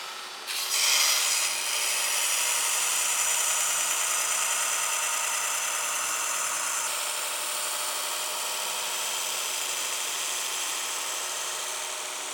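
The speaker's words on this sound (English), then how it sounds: "I'm grinding on the very edge of the belt." A Shop Master 72-inch belt grinder grinds a knife blade on the edge of its abrasive belt, giving a loud, steady, close whirring rasp that holds unbroken throughout.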